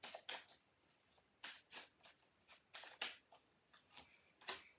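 Awaken Oracle cards handled during a tarot reading, giving a quiet, close series of papery slaps and flicks in an irregular rhythm, with nearly a dozen brief crisp bursts and no talking.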